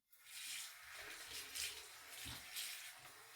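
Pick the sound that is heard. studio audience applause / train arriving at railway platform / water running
water running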